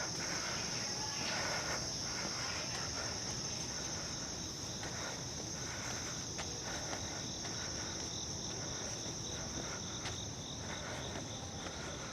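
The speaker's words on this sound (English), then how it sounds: "I think there are some cicadas, some crickets in the ambiance." Crickets and cicadas chirp steadily in the evening ambience of Central Park in Manhattan, a continuous high insect drone with dense trilling layered over soft distant city background, no voices.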